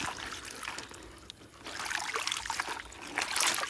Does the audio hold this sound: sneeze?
no